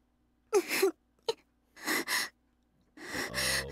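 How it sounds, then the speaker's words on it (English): A sleeping girl in The Fruit of Grisaia visual novel breathes heavily close by, in four quiet, irregular gasping breaths separated by short silences. "snap awake to the sound of someone breathing heavily a few inches from my ear"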